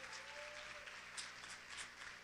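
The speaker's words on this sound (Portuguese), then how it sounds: "Vamos aplaudir ao Senhor por isso?" Congregation applauding during a church sermon, a faint, steady wash of clapping heard from a distance, with a brief tonal hum early on.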